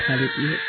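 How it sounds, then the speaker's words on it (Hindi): A baby in a Hindi cartoon story cries in two short wailing bursts, heard close and loud under someone narrating. "तभी उसे एक बच्चे के रोने की आवाज आती है"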